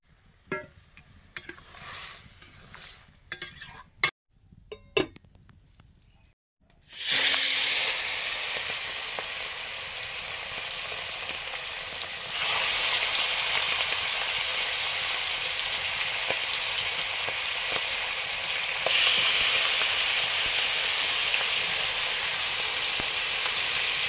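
Water poured onto fried dal and mixed vegetables in a hot pan sets off a sudden loud, steady hiss of steam and sizzling that carries on evenly after some quieter clinks and handling.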